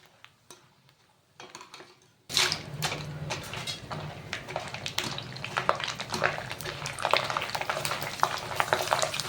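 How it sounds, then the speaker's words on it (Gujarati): Sabudana wafers frying in hot oil: after a quiet start, a sudden close, steady bubbling sizzle with crackling pops sets in and continues loudly to the end, with no talk. "હવે તેલ ગરમ થઈ ગયું છે, આપણે વેફર તળી લઈએ."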